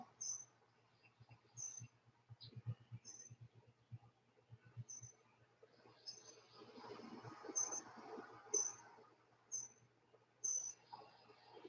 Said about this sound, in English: You can hear the birds around me calling around.